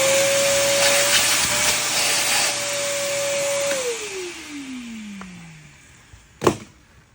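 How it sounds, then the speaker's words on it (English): A vacuum cleaner runs steadily with a loud whine on a boat's coach roof where vent holes are being drilled, then is switched off and winds down in falling pitch, followed by a single sharp knock. "Quick vacuum."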